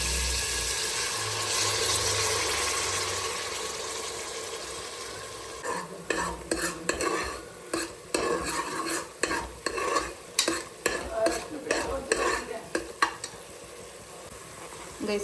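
Tempering spices sizzle in hot oil with a steady crackling hiss, then a spoon scrapes and stirs the pan in quick rhythmic strokes over the ongoing frying, close and fairly loud.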